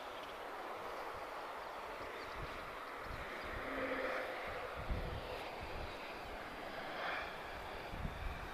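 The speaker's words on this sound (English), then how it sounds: "Vueling about to touch down." A Vueling Airbus A321 lands at Lisbon Airport, its engines a distant, steady roar that swells slightly midway and holds, heard faintly without voices.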